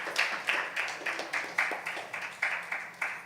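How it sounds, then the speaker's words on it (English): Moderate clapping at a youth huddle, with distinct claps in a fairly regular rhythm, roughly three per second, sounding somewhat distant and thin, as from a small group. "let's give it a round of applause to Joe Biden and Kamala Harris"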